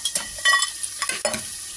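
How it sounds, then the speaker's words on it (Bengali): A sweet-sour curry gravy cooks in a pan with sharp, intermittent sizzling and stirring scrapes over a couple of seconds, close and moderately loud, with no talk. "ঝোলটা ফুটে গেছে"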